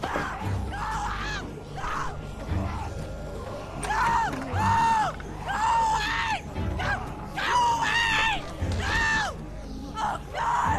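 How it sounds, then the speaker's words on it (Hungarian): A man in The Walking Dead video game screams and bellows in repeated drawn-out bursts, loud and strained, over a low game background. "Ember, mennyit tud ordibálni?"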